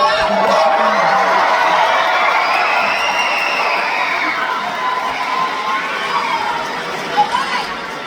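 Loud crowd of children cheering and shouting together, a dense sustained roar of young voices that holds steady and then eases slightly toward the end.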